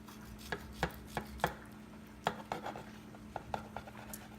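A knife cuts through papaya on a board, producing a dozen or so sharp, close chopping taps at an uneven pace, some in quick pairs, with quiet gaps between.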